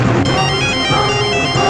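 A mobile phone rings with a bright, continuous electronic tone that fills the short moment, loud and close.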